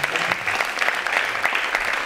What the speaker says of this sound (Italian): un ricordo, un applauso ad Anna